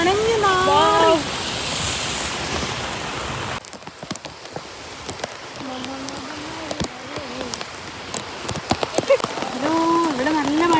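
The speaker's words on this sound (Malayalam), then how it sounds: "ഇവിടെ നല്ല മഴയാണ്," Heavy rain falls as a steady broadband wash, with voices talking over it through much of the stretch and sharp drip and splash ticks scattered on top.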